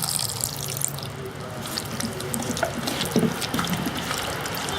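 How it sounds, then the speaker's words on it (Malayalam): Tamarind water poured into a pan of Malabar-style roasted-coconut prawn curry, a soft continuous liquid trickle and splash, fairly faint and close. "ഇനി എടുത്തു വച്ചിരിക്കുന്ന പുളിവെള്ളം ഇതിലോട്ട് ഒഴിച്ചു കൊടുക്കാൻ പോവാണ്."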